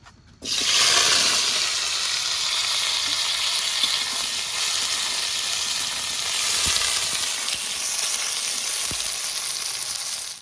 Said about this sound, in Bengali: আলু ভাজা হয়ে গেছে এবার নামিয়ে নেব